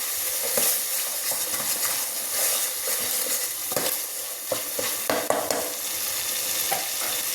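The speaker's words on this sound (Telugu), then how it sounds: "ఇప్పుడు బాగా వేయిద్దాం పచ్చి వాసన అంతా పోయేంత వరకు బాగా వేయిద్దాం" Ginger garlic paste sizzles steadily in a pan while a spoon scrapes and stirs it with repeated clinks, close and continuous, no talking.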